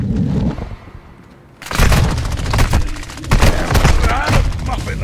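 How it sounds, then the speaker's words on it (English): A stun grenade goes off in a video game, a sudden loud bang after a quieter stretch, followed by crackling impacts and gunfire, with people talking over it. "Stun grenade out!"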